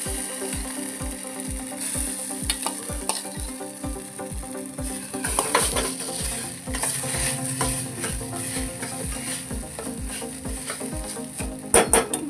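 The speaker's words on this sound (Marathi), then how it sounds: "ह्याच ह्याच तुपाच्या भांड्यामध्ये मी शाबू ॲड करणार आहे" A soft sizzle of sago frying in ghee runs under steady, rhythmic scraping taps of a spoon against a pan, about two strokes per second.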